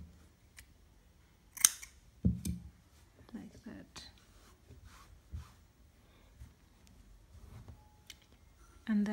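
Two or three quick snips of scissors cutting crochet yarn, close and crisp amid quiet handling rustles and faint low speech in a calm indoor setting.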